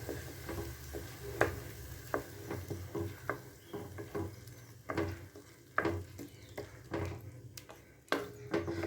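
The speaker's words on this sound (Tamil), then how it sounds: "ஒரு தடவை அந்த எண்ணெயில் நல்லா பெரட்டி கொடுத்த" Raw mango paste stirring and frying in sesame oil in a pan, a steady low sizzle broken by repeated scraping stir strokes and light ticks of a spoon against the pan, close and alone.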